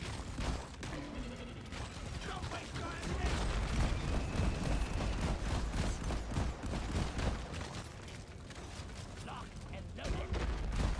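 Dense, continuous gunfire and mechanical weapon clatter in Deep Rock Galactic, rapid overlapping shots and clanks filling the whole stretch with a voice talking underneath.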